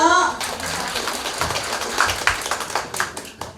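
Attendees at a Chinese-Korean community New Year gathering on a cruise give a welcoming applause. A short spoken bit comes first, then a moderate, scattered patter of clapping builds and thins toward the end.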